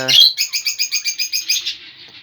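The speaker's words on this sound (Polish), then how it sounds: "I przejdziemy do papug teraz." Pet parrots in a home aviary give a quick run of about a dozen bright, evenly spaced chirps, loud and close, tailing off at the end.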